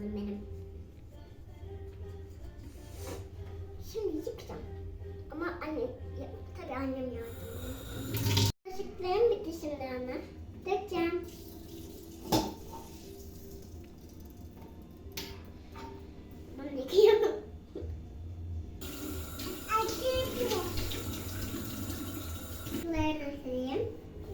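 Toy dishes are washed under running water at a sink, with water splashing and clattering throughout while a child and an adult talk over it.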